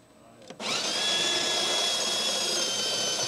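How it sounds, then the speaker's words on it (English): The built-in coffee grinder of a La Specialista Arte espresso machine kicks on after a short quiet moment and whirs loudly and steadily, grinding dry beans on a fine setting. "How are you supposed to adjust a grinder, Neil?"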